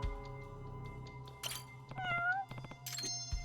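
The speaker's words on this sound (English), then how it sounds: "Oh, look, a cat." A cat meows twice in the video game Judgment, a short wavering mew and then a higher brief cry, over a low humming game ambience with faint clicks.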